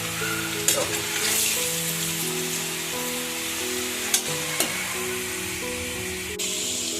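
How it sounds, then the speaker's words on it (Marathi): French fries bubble and crackle in hot oil, a steady dense sizzle with a low humming tone underneath and a few sharp clinks, heard up close without speech. "मस्त अशी फ्राय झालेली आहे."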